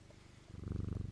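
Cat in the video game Strange Antiquities purrs close up, a soft low rumble that grows louder halfway through into a steady pulsing rhythm, with no talk over it.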